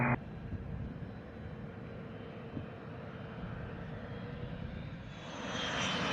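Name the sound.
private jet landing on runway at Scottsdale Executive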